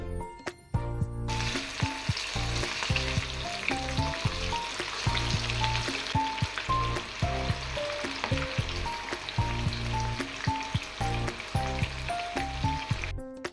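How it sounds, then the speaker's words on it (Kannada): Chicken kebab pieces drop one by one into hot oil on a medium flame, making a dense, continuous deep-fry sizzle with small bursts, heard under rhythmic background music. "ಇವಾಗ ಒಂದೊಂದೇ ಪೀಸ್ನ ನಾನು ಎಣ್ಣೆ ಒಳಗೆ ಹಾಕ್ಕೊತಾ ಇದ್ದೀನಿ."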